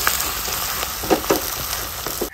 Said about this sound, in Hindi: अब हम इसमें डालेंगे पिसा हुआ लहसुन, और इसी के साथ में मैंने जो है साबुत धनिया वो भी साथ में पीसी हुई है